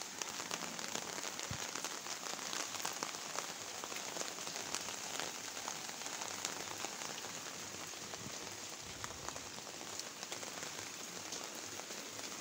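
Heavy rain pouring steadily on a village garden with tomato and bean plants, a dense, continuous hiss of drops striking leaves and ground, fairly soft and unbroken, with no voices.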